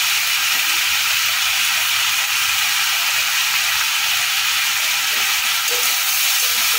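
Chopped tomatoes hitting a hot pan of potatoes for an aloo bhaji give a steady, loud hiss and sizzle, close and continuous, with no voices.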